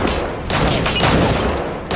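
Rapid bursts of gunfire in a tense film scene, an agent's attempt to shoot Kim Jong-hyuk, crackling loud and close as several shots overlap across the whole moment, with no talk over it.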